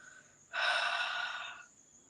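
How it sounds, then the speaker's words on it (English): One long, deep breath during a guided meditation, a smooth airy rush that swells quickly and fades after about a second, close and clear against a quiet room. "Nice breath in and then out."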